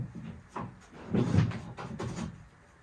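A wooden slider door on a wood shed rolls on its bottom wheels, giving a few soft scraping, rubbing thumps over a couple of seconds, the loudest grinding pass in the middle, close by with no talk.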